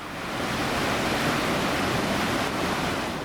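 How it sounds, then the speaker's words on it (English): River torrents cascading through the town of Mostar, Bosnia, a dense continuous roar of rushing water, loud and close, steady for a few seconds with no voices. "The sound of cascading liquid and bridges crossing them."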